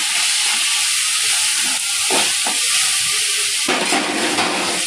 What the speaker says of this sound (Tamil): இப்போது இஞ்சி பூண்டு சேர்த்துக்குவோம்.